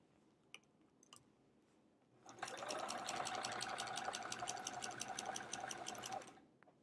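A sewing machine quilting a sampler quilt, stitching in the ditch, starts up after a few faint clicks and runs at a steady fast pace for about four seconds before stopping, close and clear.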